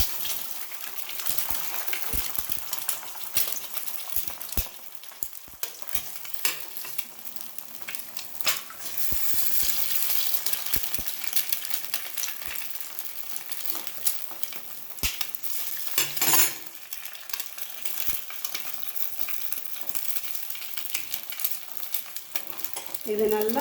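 Three eggs cracked into a pan fry and get stirred for egg bhurji, a constant bright sizzle broken by scraping stirring strokes, close up and with no talk.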